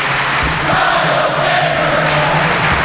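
A college basketball crowd at a Michigan State–Indiana senior night game chants a player's name, a loud, dense, sustained arena roar with rhythmic swells.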